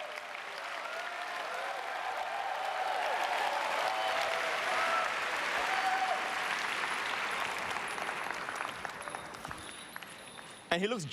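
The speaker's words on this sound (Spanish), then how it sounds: "Demos un aplauso de bienvenida al Cohen Gadol, el sumo sacerdote de Israel." Sustained audience applause fills a large hall, welcoming a high priest at a church service, with a crowd cheering throughout and fading near the end.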